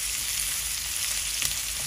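Cardamom, cinnamon and ginger-garlic paste sizzle in hot oil for bhuna khichuri, a steady close crackling frying hiss throughout with no talk.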